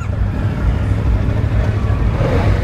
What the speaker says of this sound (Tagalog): Iyon yung kanyang pinaka-exhaust sound, diba?